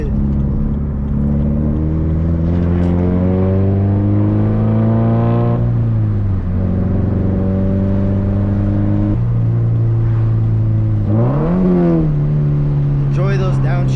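A Scion FR-S engine revs hard through downshifts, rising and falling blips over a loud, continuous droning exhaust heard from inside the car, with a voice speaking over it.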